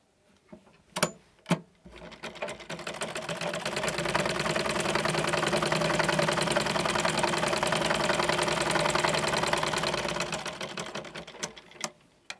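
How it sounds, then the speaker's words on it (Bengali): A domestic sewing machine stitches along one side of a cloth, starting after a few clicks, then running in a steady, close mechanical whir for about eight seconds before slowing and stopping with handling clicks. "আমি কাপড়ের এই পাশটা সেলাই দিয়ে দেখাচ্ছি"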